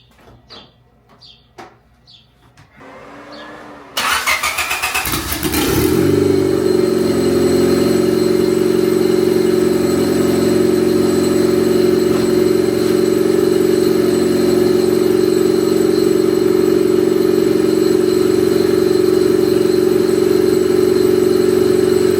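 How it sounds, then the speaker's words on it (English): A few faint clicks, then a lowered turbocharged Honda Civic engine cranks and fires up, settling into a loud, steady idle with a constant whine that runs without pause. "Hopefully on this start I can actually hear the turbo spooling"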